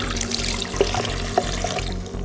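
Steady pouring water, about 1.5 cups, runs continuously into a blender, a soft liquid rush with a couple of faint clinks, no talking.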